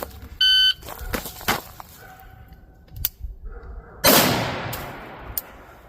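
A short electronic timer beep, then several sharp carbine shots during a precision shooting drill. The shots are spaced apart, and the last, loudest crack trails into a long ringing decay.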